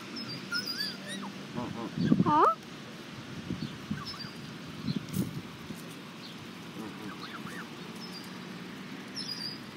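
Canada geese with their juveniles feeding on oats give soft honks and whiny calls, a louder cluster near the start then scattered quieter calls over rustling outdoor background.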